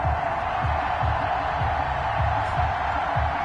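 Stadium crowd noise in a PS4 football video game before an Arizona Cardinals vs Atlanta Falcons matchup, a steady broad roar of the crowd with low rhythmic pulses underneath, no talking.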